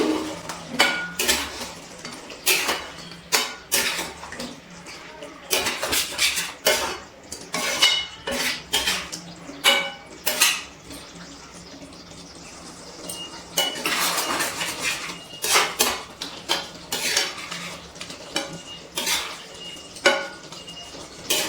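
A metal spatula scrapes and clinks against a kadai while kadai chicken with julienned ginger is stirred, irregular bursts of close, sharp clatter separated by brief quieter gaps.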